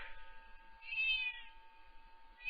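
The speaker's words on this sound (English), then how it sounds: "You hear the cat?" A house cat meows in a drawn-out, rising-and-falling call, followed by the start of a second meow, close and clear against a quiet room.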